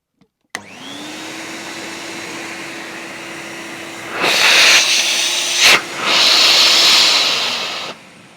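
A Vortech Force 3 vacuum cleaner, a 1150-watt machine under restoration, switches on with a sharp click and settles into a loud, steady whirring hiss that surges louder twice before running on alone.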